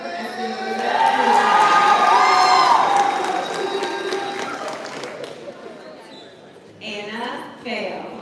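A graduation crowd in a large hall cheers and whoops for a graduate, swelling loud and then tapering off, followed by more scattered shouts and an announcer's voice.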